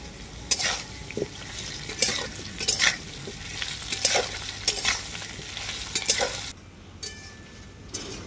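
Potatoes and ginger paste stir-fry in a pan, with repeated close scraping strokes of a spatula over a constant sizzle that drops away near the end.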